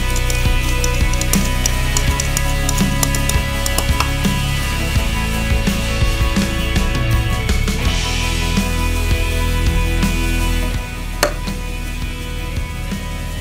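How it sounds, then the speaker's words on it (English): Harbour mud in a lab tank stirred into a thick fluid, giving irregular clunks, scrapes and wet knocking at close range, fairly loud and continuous before easing slightly near the end. "By stirring this mud, it will turn into a thick fluid."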